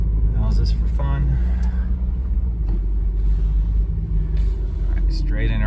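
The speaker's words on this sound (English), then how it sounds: "One-handed driving a Mercedes. How's this for fun?" A 1965 Mercedes-Benz 220SE Cabriolet driven slowly, including reversing, gives a steady, loud, close low engine rumble, with someone talking over it at the start and near the end.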